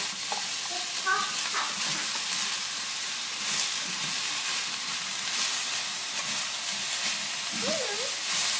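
Vegetables stir-fried in a very hot pan give a steady, loud, close sizzle and hiss that runs unbroken throughout, with faint scraping as they are moved around.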